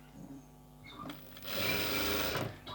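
A tailor's sewing machine stitching a blouse neck piece, starting with soft clicks, then a loud steady whirring run of about a second near the end, with light handling sounds around it.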